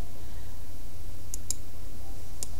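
A computer keyboard gives a few sharp clicks, close and isolated, with a pair in the middle and another near the end, over a quiet room hum.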